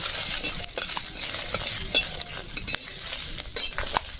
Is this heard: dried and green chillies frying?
yes